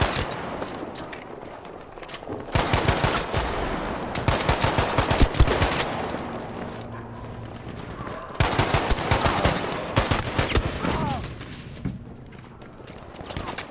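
Rapid M1A1 rifle fire in the video game Battlefield 5: two long bursts of fast, repeated sharp shots, separated by quieter gaps, with someone talking throughout.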